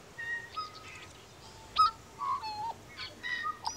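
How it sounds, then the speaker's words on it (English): Pet bird chirping in short, thin calls scattered through a quiet room, moderately close and alone with no talk. "Pretty bird."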